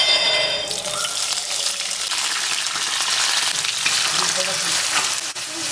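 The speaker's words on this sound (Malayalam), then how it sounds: "ഇതൊന്ന് ചൂടായതിനു ശേഷം നമ്മൾ ഇതിലേക്ക് ഇതുപോലെ ഗ്രേറ്റ് ചെയ്ത് വെച്ചിട്ടുള്ള ഓണിയൻസ് ആഡ് ചെയ്ത് കൊടുക്കാം." Grated onions dropped into hot oil with crushed cloves and cardamom for a dhaba-style paneer masala, a loud hissing sizzle that bursts at the start and then settles into a continuous crackling fry.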